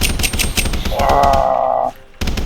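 Rapid bursts of automatic gunfire in a plane-crash survival video game rattle in quick succession, broken by a sustained mid-pitched tone before a brief pause and more shots.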